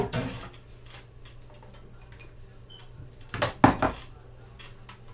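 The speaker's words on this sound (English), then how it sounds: "we are going to transfer our macaroni and cheese to a bigger pot" Macaroni and cheese is moved into a bigger pot, heard as scattered clinks and scrapes of metal utensils against cookware, with a couple of louder clanks near the end.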